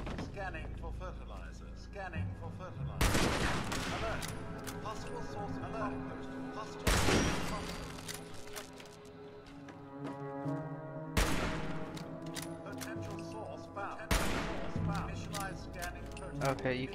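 Four loud gunfire bursts in the video game Fallout 76 strike a few seconds apart, each a sharp blast that rings out and decays over a low droning game background.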